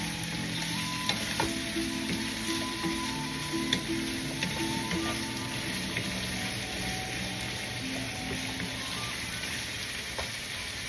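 Pork drops into a hot pan with bay leaves and fries with a steady, even sizzle that carries on throughout, close and moderately loud, with faint scraping.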